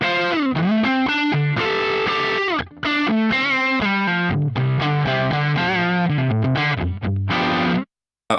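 A heavily distorted electric guitar plays a fast lead line through a Quad Cortex modeler with a noise gate, bright sustained notes and quick runs, loud and alone, cutting off sharply at the end.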